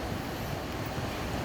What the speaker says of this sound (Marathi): पाहू शकता किती जोरात पाणी पडते इकडे.